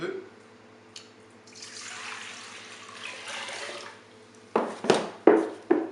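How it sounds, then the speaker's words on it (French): Water at 38 degrees, 1.2 litres, is poured for kneading buckwheat sourdough, making a soft, close splashing stream, followed by several sharp clunks and bumps of handling. "Je vais mettre de l'eau à 38 degrés"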